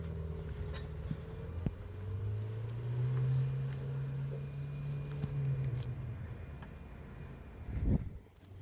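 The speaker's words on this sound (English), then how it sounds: "the next video is the Ferrari. It's just an F8 I think, but let's hear it" A Ferrari F8 engine idling and revving in a garage, a low steady hum swelling into a sustained rev before settling, then a brief louder burst near the end, heard at moderate distance with a faint voice early on.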